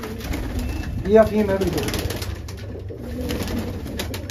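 Small, fine-boned Punjabi breeding pigeons coo softly nearby, a low rolling burble under a voice as he talks over them.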